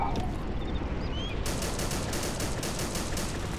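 In Arma 2, set in Normandy, gunfire crackles to the north as a rapid, rattling burst of shots that starts partway through and carries on over a steady, noisy battlefield backdrop.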